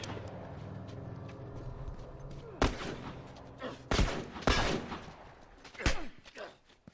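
Several sharp shots from a 9mm pistol in a video game, spaced irregularly with two or three loud bursts and a fainter pop, over a busy background of game noise.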